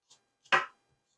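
A big knife cutting into a tough celery root on a board, one short crisp chop preceded by a couple of faint taps, close and isolated in quiet.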